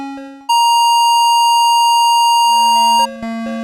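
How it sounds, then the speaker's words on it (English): Atari 2600 Journey Escape chiptune rendition of Don't Stop Believin': loud, buzzy square-wave notes, including a long held beep-like tone, then a return to stepped low and high synthesized notes. "if we listen to the Atari version of Don't Stop Believin'"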